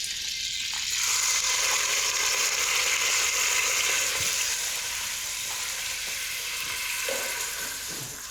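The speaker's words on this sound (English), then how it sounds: "So sweat the onions." Grated onion sweats in olive oil and butter in a pan, giving a steady, close, even sizzling hiss that swells slightly and then fades a little near the end, with no talking.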